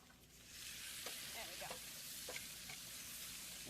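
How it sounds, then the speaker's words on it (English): Gnocchi seasoned with salt and pepper are tossed in a hot pan, producing a quiet, steady sizzle with several short scraping and shuffling bursts as they move. "we're going to get a good toss on our gnocchi"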